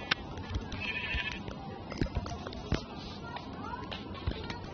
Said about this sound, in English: Oh, sheep, don't go over there.